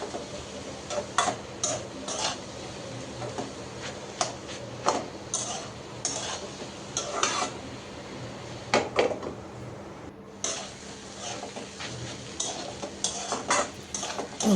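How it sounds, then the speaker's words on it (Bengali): A vegetable bhaji is stirred in a pan over a low sizzle, with repeated sharp metal spatula scrapes and taps against the pan, close up and irregular, with no talking. "তো ভাজিটা আমার ভাজা ভাজা হয়ে গেল,"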